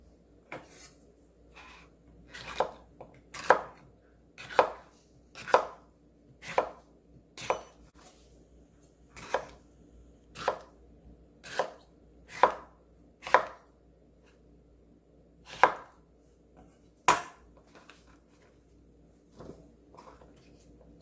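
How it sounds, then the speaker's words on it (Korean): Steady knife chops through cucumbers on a cutting board, about sixteen crisp, evenly spaced strikes close up with short pauses between them, while a faint low kitchen hum stays under the cuts. "오이를 썰어줍니다."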